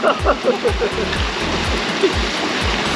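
Rushing water from a waterfall on the Booloumba Track in the Sunshine Coast Hinterland pours steadily and loudly, with a few low thumps and brief voices mixed in near the start.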